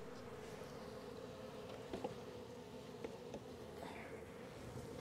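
A steady, close drone of many honeybees buzzing continuously around an open hive during an inspection, with a few louder passes near the microphone.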